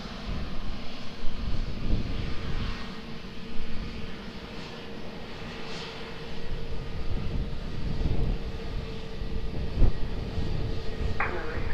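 Airplane engine at Lisbon Airport, a faint, steady jet roar from a distance with low rumble and gentle swells, heard alone without talk throughout.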